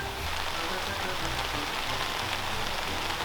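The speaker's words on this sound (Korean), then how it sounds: "텐트나 쉘터 타프에 타닥 떨어지는 이 빗소리가" Dense spring rain patters steadily and close by on a tent and tarp at a campsite, a continuous crackling hiss with no pauses.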